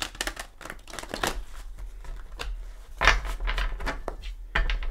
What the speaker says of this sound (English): we'll give it a couple shuffles